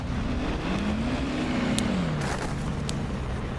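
Engine of a KV-2 (ZIS-6) tank in War Thunder droning steadily with a low rising-and-falling tone, accompanied by a few faint clanks and no talk.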